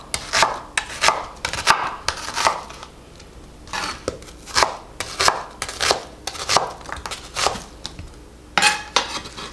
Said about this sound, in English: All of these ingredients that I'm chopping up right now